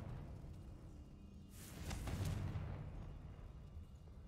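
A Confringo fire spell bursts in Hogwarts Legacy: one loud, broadband explosive blast swells over a low rumbling backdrop, then fades back into the ambient drone.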